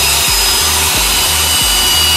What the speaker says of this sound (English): now let's drill the pilot hole